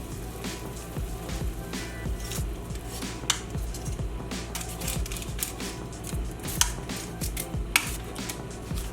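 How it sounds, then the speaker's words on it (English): Steady crackling sizzle of smashed potatoes frying in a pan, with occasional clinks of a utensil against cookware. "You can hear that sizzle."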